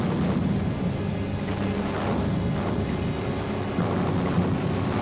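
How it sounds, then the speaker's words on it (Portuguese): Continuous rumbling booms from a massed artillery barrage of some nine hundred guns, rolling one into another, a dense low roar with no pauses. "Novecentos canhões começaram a agredir as linhas do eixo e o ataque começou."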